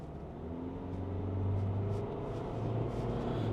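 A KGM Musso pickup truck accelerates, its engine note rising into a low rumbling drone heard from inside the cabin, with no talking.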